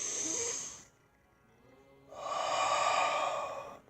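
Slow, deep belly breaths demonstrated up close: a long breathy exhale, a quiet pause, then a fuller rushing breath, with no talking.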